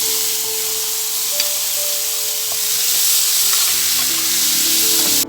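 Tomatoes are tipped into garlic already sautéing in a pan for a potato and eggplant moussaka, setting off a steady, close, loud sizzle and frying hiss that holds for the whole stretch with no talking.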